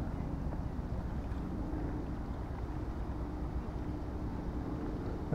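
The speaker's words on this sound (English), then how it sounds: "There's helicopters and boats going past all the time." Boats motoring past on the River Ouse below York during yacht races give a steady low rumble that fills the whole stretch, with wind buffeting the microphone and no one talking.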